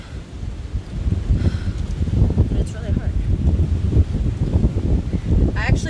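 Strong outdoor wind buffets the microphone with a steady low roar and gusty rumble while a person talks over it.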